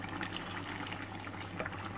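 Warm water is poured into a cabbage mutton curry in a pot, giving a soft, steady liquid splashing and bubbling that runs faintly for a couple of seconds.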